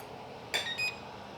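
A kitchen timer alarm beeps during a gluten-free Christmas cooking session, two short bright bursts of electronic beeping close by, each under half a second, with nothing else audible.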